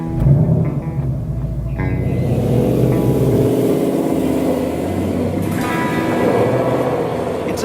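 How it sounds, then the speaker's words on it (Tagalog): A 2019 Ford Mustang GT Convertible's V8 rumbles loudly, swelling into a sustained deep rev that echoes between buildings in a gated community, heard alone without talk. "the echoing sound of a V8"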